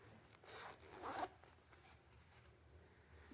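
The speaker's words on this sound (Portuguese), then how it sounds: "E finalmente abrir o zíper" A zipper on a skirt is pulled open in one quick, close rasping stroke, quiet and alone with no talk.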